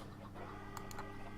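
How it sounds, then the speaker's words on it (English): Minecraft chickens held in a cauldron on a cooker farm cluck faintly and briefly, two short bursts in a quiet, low-level scene. "You have the chickens in a cauldron"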